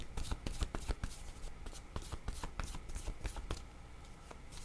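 A deck of cards is shuffled and cards are drawn, a quick run of dense riffling flicks and soft snaps up close, slowing near the end.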